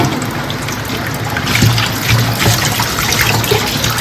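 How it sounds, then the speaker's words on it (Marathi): Running water pours over pomfret fish as they are rinsed, a loud, continuous splashing gush close by with a few clattering bumps midway and no talking. "आता धुवायला लावलेले आहेत बघा"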